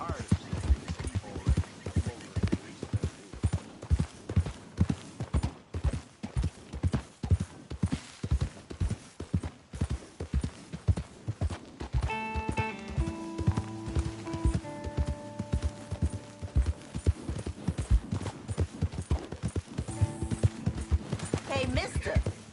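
Horse hooves clip-clop in a steady walking rhythm in the video game Red Dead Redemption 2, a close continuous clatter, with voices talking over it partway through.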